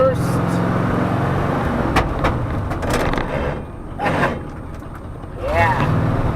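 A 1968 Ford F250 truck engine working up through the gears, its note climbing and dropping with each shift, heard from inside over a steady road rumble, with brief voices.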